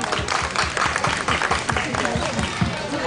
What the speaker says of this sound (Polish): I brawa dla nich, brawa, brawa, wszyscy brawa